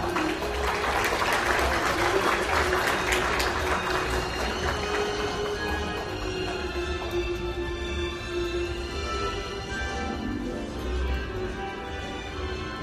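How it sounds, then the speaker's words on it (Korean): A crowd claps steadily at an awards ceremony in a Seoul hotel hall, loudest at the start and gradually thinning out over about thirteen seconds, with some faint background voices. "여러분 큰 박수 부탁드립니다."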